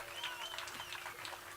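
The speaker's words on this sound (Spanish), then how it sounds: "Palmas al nombre del Señor." A congregation applauds in a church service, a faint, steady wash of distant clapping that continues without pause under a sustained tone.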